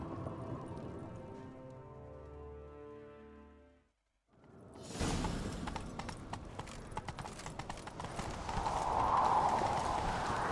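Galloping horse hooves clip-clop in a rapid rhythm over game music and rumbling ambience in The Witcher 3: Wild Hunt, rising louder toward the end.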